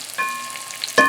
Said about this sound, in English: A little deep fry.